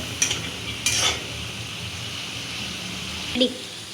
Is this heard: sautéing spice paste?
yes